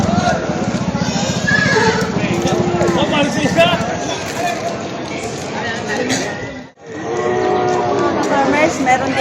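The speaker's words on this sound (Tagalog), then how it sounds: "Mga ka-farmers, meron din mga kabayo dito." Horses at a livestock auction market whinny and snort amid a busy, noisy barn, with someone talking over the animal sounds and a brief break near seven seconds.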